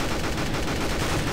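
Rapid automatic gunfire in Counter-Strike: Global Offensive, a dense, loud burst of overlapping shots that fills the whole brief moment with no gaps.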